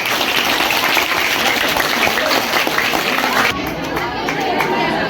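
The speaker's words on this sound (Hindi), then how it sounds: "इनके लिए तालियां जोरदार।" A crowd at a school Independence Day programme applauds loudly for a child's poem recital, dense clapping mixed with chatter and a voice, dipping slightly partway through.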